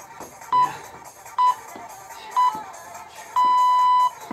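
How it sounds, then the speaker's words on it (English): Workout interval timer sounds three short beeps and then one longer beep, spaced about a second apart, clear and fairly loud over quiet background noise. "So just keep listening for the beeps."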